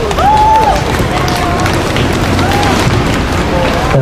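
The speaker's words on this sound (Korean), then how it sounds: "예, 큰 박수로 모시겠습니다." Crowd applause and cheering at an outdoor Korean political rally protesting the Ssangyong strike crackdown, loud and steady throughout, with shouts and whistles rising over the dense clapping.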